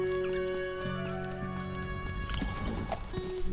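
Hoofbeats and horse sounds from a Western video game set on a frontier, heard over a steady game soundtrack with sustained tones.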